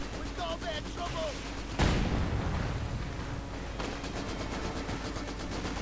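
Machine gun fire and battle blasts rumble in Company of Heroes 2, with a sharp explosive hit near two seconds and rapid rattling bursts afterward over a constant din, while a voice talks over it.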